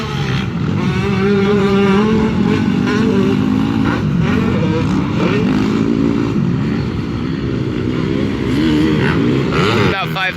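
Motocross motorcycles rev and whine through Evergreen Speedway practice, engines rising and falling loudly throughout with overlapping passes and a voice talking over them.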